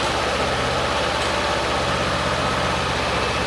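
A Honda NX500 motorcycle engine with e-Clutch runs at a steady idle, a close, continuous mid-low mechanical drone with even vibration and no revving.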